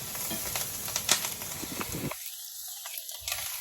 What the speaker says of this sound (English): We're going to give this literally a couple of stirs